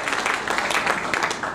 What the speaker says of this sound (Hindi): बात जोरदार तालियां बजाकर उनका स्वागत करें।